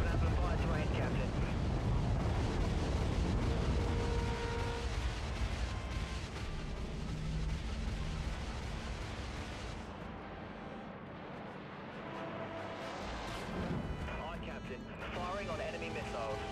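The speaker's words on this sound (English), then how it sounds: "those are just scatter missiles" Scatter missiles burst in the space combat game Dreadnought, a dense rumbling barrage of booming explosions that rolls on continuously and loudly under game effects, briefly thinning midway before resuming.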